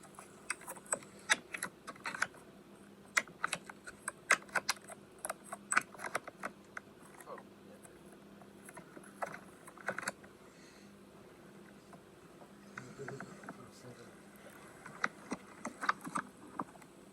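Snapping and pressing an iPhone XS Max into a waterproof case, a scatter of faint close plastic clicks and taps spread irregularly over quiet handling noise.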